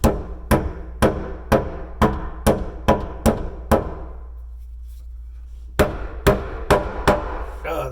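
Sharp hammer blows drawing a countertop miter joint together, a quick run of about nine close, loud strikes, a short pause, then five more evenly spaced hits.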